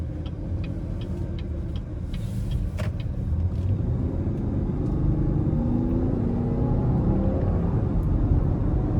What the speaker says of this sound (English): So that pull was from sport mode. I wasn't flooring it, but I just gave it a little something coming out of that corner.